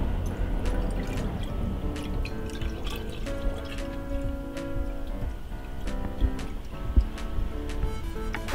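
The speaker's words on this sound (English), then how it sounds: "So take your chosen liquid, in this case my synthetic kerosene, and carefully pour it in to the" Synthetic kerosene poured into a measuring cylinder up to the 1 liter mark, a continuous close liquid pour with scattered drips and small splashes.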